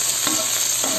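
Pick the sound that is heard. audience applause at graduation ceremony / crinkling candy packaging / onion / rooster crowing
onion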